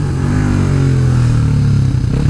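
A motorcycle engine roars steadily up close, loud and continuous with a revving drone throughout.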